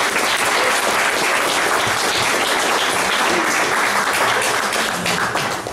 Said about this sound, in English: would you please give a big round of applause to my friend Greg